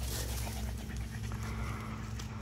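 Dogs pant and play close by, rapid breathy panting with occasional small whimpers and scuffling over a low steady rumble.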